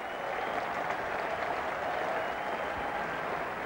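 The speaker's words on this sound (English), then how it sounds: "this Oval crowd giving a very good reception now to Alan Wells" A cricket crowd at the Oval applauds Sussex captain Alan Wells during a 1995 England vs West Indies Test match, a steady distant wash of clapping heard throughout.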